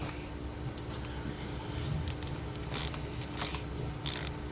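A socket ratchet tightening the oil filter cap on a Polaris Slingshot, with several short bursts of quick metallic clicking close by, separated by brief pauses over a low background hum.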